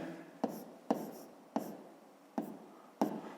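Pen strokes on paper land in a slow, regular series of five short scratching marks, close and quiet, with soft rubbing between them and no talking.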